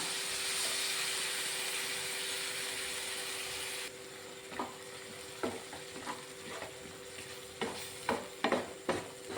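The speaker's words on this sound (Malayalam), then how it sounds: "ഈ പൊടികൾ കരിഞ്ഞു പോകാതെ പ്രത്യേകം ശ്രദ്ധിക്കണേ തീ ഒരു ലോ ഫ്ലെയിമിൽ വെച്ചാൽ മതി" Spice powders for a lemon pickle masala cooking in a pan on low flame: steady hissing sizzle at first, then a quieter stretch broken by scattered scraping stirs of a spoon, close up with no voices.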